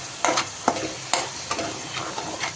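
Stirring and sizzling in a hot pan of beans as a little water is added, with several sharp scraping strokes over a steady crackle, close up and fairly quiet.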